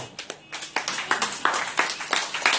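A church congregation bursting into applause, a dense crackle of many hands clapping with rhythmic surges, close and lively, with no speech over it.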